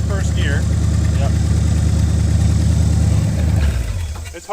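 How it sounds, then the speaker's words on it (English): A revived vehicle's engine idles steadily and loudly up close, a continuous low rumble that dips near the end, with a person talking over it. "I enjoy the engine running so much. It runs so good."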